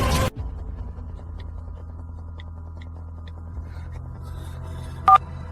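A short burst opens, then a low steady line hum carries soft, evenly spaced tones of a telephone being dialed, ending in a single brief loud electronic ring-like beep near the close.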